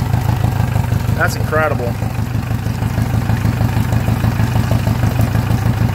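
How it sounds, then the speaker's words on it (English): A Yamaha 115 hp outboard motor idles steadily on its own after its injectors were cleaned with Seafoam. The low, loud, even putter runs throughout, with a brief exclaimed remark over it near the start. "It's running though, it's at idle right now by itself, which it would not do before"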